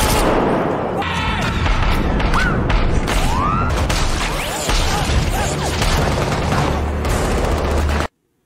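Shootout in an Indonesian action film: dense, loud bursts of gunfire and automatic weapons with crashes and ricochet-like whines, layered over a continuous heavy score that cuts off abruptly at the end.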